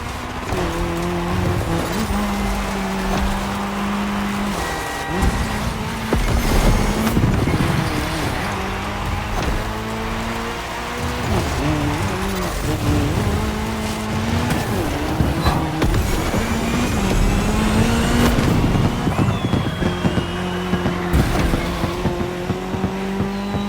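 Race cars in The Crew Motorfest roar through a cross-terrain race on tarmac, engines whining and shifting pitch with overlapping cars, occasional tire squeal, loud and sustained.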